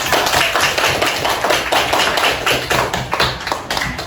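A classroom of students clapping steadily together, dense and continuous applause throughout.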